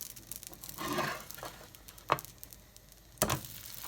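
Plant-based pancakes sizzling in a frying pan as they are flipped, a soft crackling fry with a few sharp clatters of the turner against the pan, quiet and close, with no voices.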